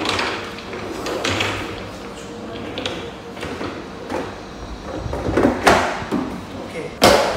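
Parts of a five-tier, two-column plastic drawer cabinet being pressed together, with several sharp plastic snaps and clacks as the locks engage, mixed with handling rustle and a voice talking at times.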